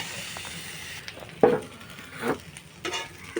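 Pointed gourd peels frying with salt in a pan, a soft sizzle underneath a few distinct scraping stirs of a spatula, nearby and moderately loud, with no one speaking.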